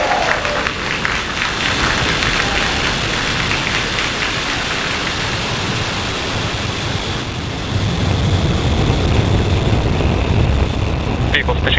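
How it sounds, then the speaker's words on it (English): A SpaceX Falcon 9 rocket carrying Starlink satellites ignites and lifts off with a loud, continuous crackling roar that deepens toward the end, under a voice commentating. "Ignition and liftoff of Starlink"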